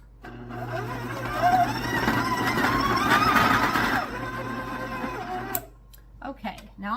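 An electric mixer creams butter and sugar for a blueberry muffin cake, a steady whirring hum that holds for about four seconds and then cuts off, leaving a few clinks and short rustles.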